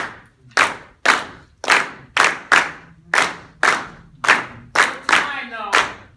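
A group claps in unison at a Cuban folkloric ensemble rehearsal, about a dozen sharp, evenly spaced claps in a steady beat, close and crisp, with faint voices underneath.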